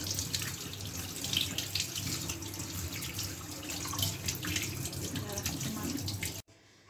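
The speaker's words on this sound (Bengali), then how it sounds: "আগে মাছটা ধুয়ে নিই তারপরে মাংসটা ধোবো" Fish being washed under a running kitchen tap, a steady close splashing stream that continues for several seconds before cutting off abruptly near the end.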